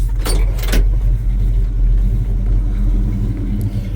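A 1978 Chevy C10 truck engine is already running, a loud, steady low idle rumble with a couple of brief rattling clicks near the start and no voices.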